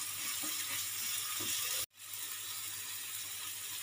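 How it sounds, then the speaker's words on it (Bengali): Onions hit hot mustard oil in a pan over a medium gas flame, giving a steady, bright, close sizzle that cuts out for a brief instant midway before resuming just as strongly. "তেলটা গরম হয়ে গেছে, দিয়ে দেবো পেঁয়াজ।"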